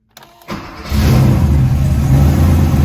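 A Porsche 911 Carrera 3.2 engine cranks briefly, catches, and revs up to a loud, steady rumble close by, with no misfiring, after new spark plugs and wires.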